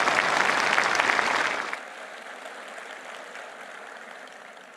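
Audience applause at Bharat Tex 2025, a major textile event at Bharat Mandapam in New Delhi, loud and dense for under two seconds before cutting off to a quiet room murmur.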